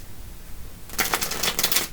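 A tarot card deck is shuffled, a quick rapid riffle of crisp card flutters starting after a brief quiet moment and continuing close and clear to the end.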